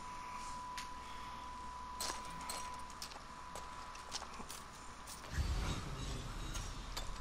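A door mechanism opens in Assassin's Creed Origins with creaking, grinding stone-and-gear movement and scattered clicks. It builds to a louder rumble near the end.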